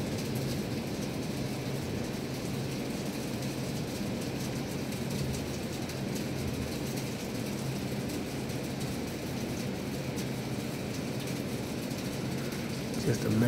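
Distant thunder during a night storm, a steady low rumble that rolls on without a break like a jet passing high overhead, broad and continuous throughout.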